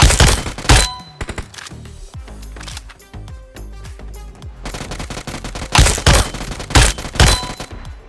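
Hip-fire gunshots at bots in the BGMI mobile shooter, with rapid automatic bursts of loud sharp shots separated by short pauses and thumping impacts, close and alone.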